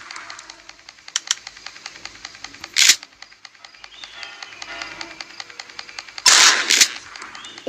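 Gunfire in the Granny Chapter 2 video game, a run of rapid, regular clicking shots with two louder bursty blasts, one early and a longer one near the end, close and loud with no talk.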